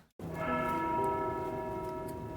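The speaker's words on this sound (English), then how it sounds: "There goes the warning bell." A warning bell rings in the Grimshire farming video game: a single struck bell tone that starts abruptly after a brief silence and then sustains and slowly decays, clear and fairly loud.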